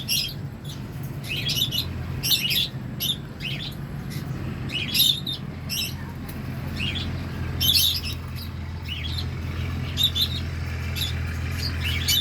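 African lovebirds and a cockatoo chirping nearby, bursts of sharp high tweets in irregular clusters over a low steady hum.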